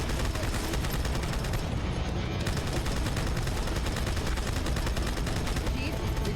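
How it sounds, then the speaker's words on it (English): Sustained machine gun fire in Halo 2: Anniversary, a dense, loud, unbroken stream of rapid shots with heavy battle noise layered over it throughout. "Machine gun."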